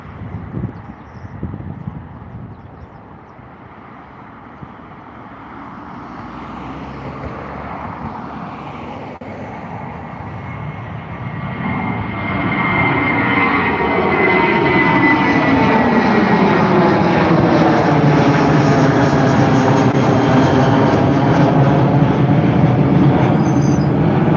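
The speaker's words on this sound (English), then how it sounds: "the British Airways Airbus A320 heading over to London Heathrow" A 23-year-old British Airways Airbus A320 bound for London Heathrow takes off from Dublin Airport, its engine roar building steadily from a low rumble to a loud, sustained, rising whine as it nears and passes.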